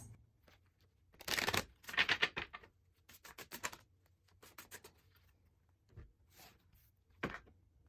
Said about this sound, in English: So let's shuffle these up so we can see what the cards have to give us.